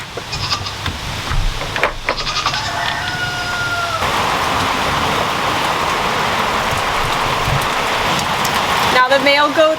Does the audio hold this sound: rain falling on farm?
yes